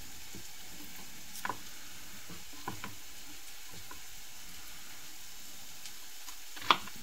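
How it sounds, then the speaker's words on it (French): Onions simmering in a pan, a faint steady sizzle with a few soft ticks and clinks of utensils, quiet and close with no talk. "nos oignons sont en train de mijoter"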